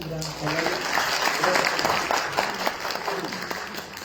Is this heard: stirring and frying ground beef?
no